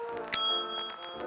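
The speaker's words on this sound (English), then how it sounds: "A bell." A single bright bell ding from the I Spy Treasure Hunt PC game, sharp at first then ringing out with a sustained shimmering tone over a soft musical background.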